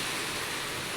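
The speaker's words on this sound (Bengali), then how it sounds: "বাইরে বৃষ্টি হচ্ছে প্রচণ্ড, দেখো আকাশে বৃষ্টি হচ্ছে, প্রচণ্ড হারে বৃষ্টি হচ্ছে।" Heavy rain pours down outside in a steady, dense wash of noise, loud and continuous with no gaps, and no voices or other sounds over it.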